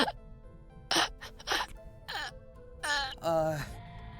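A character in the video game Haven snores or breathes with effort, producing several separate, raspy, groaning breaths at uneven intervals against a quiet background.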